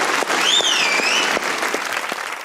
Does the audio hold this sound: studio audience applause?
yes